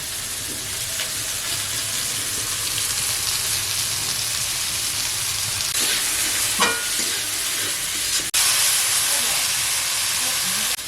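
Nal shak greens fry in oil, giving a steady, close sizzling hiss throughout with occasional sharper crackles and a brief clatter near the end.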